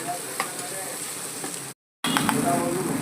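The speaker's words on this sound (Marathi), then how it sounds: "हे असं चांगलं मसाला भाजून घेते 5 मिनिटं." Masala with turmeric and garam masala fries in a pan, a steady close crackling sizzle with light stirring scrapes, broken by a brief moment of silence partway through.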